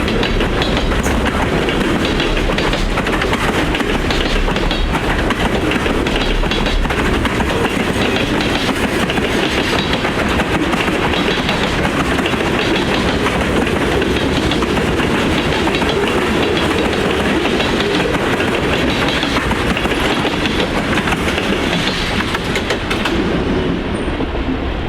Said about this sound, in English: I listened to the cars slam the rail joints along the line